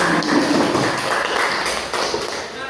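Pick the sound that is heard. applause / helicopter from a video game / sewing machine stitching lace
applause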